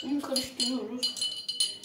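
A spoon clinks and scrapes against a glass while stirring two spoonfuls of sugar into a homemade cough remedy mixture, quick close metallic taps in an irregular rhythm.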